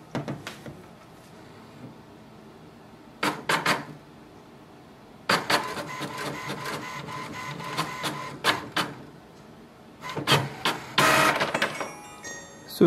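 An HP Envy 6020e printer runs a deep cleaning cycle, giving bursts of mechanical whirring and clattering separated by quieter pauses, with several short loud stretches close by and no talk.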